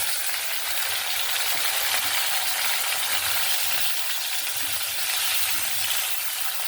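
Chopped vegetables join slit green chillies frying in a pan for a katla fish and amchur sour curry. A continuous hissing sizzle with soft stirring scrapes runs close and even throughout, with no talk.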